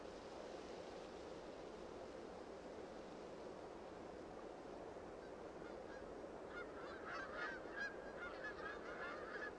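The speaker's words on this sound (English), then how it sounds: "The wild geese are already streaming southward." Distant geese honking in a loose flock, calls growing more noticeable toward the end over a steady wash of surf-like background noise.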